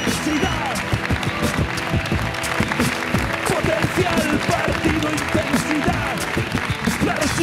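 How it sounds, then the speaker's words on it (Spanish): Studio audience applause on a Spanish late-night TV show, loud and continuous, with music and voices mixed in under the clapping. "Un aplauso para ellos, por favor."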